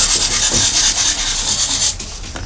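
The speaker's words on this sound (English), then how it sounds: "The leather is nipped in over the 6 bands with a pair of special band-nipping" Leather being nipped in over the six raised bands of a book spine with special band-nipping pliers in a traditional bookbinding workshop, a close, continuous dry rubbing and scraping that fades near the end.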